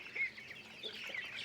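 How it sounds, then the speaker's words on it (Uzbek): Poultry calls, likely Muscovy ducks and ducklings at a farm selling birds, come as a busy overlapping chorus of high chirps and quacks, fairly faint and continuous with no talk. "Qorabosh Indutko'rdak cho'jalari,"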